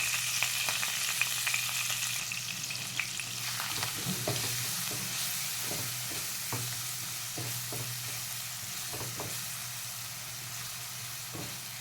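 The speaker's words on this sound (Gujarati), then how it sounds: "થોડી હિંગ એડ કરીશું અને આ ડુંગળી મેં ક્રશ કરીને રાખી હતી એ આપણે એડ કરીશું" Crushed onion frying in hot oil with asafoetida for a Punjabi-style pointed gourd curry, a steady close sizzle with repeated scraping stir knocks through the middle, no talking.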